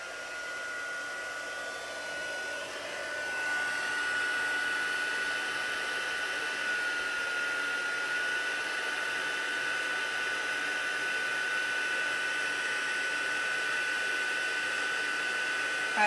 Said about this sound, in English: I'm just going to bring the heat tool in so we can melt this embossing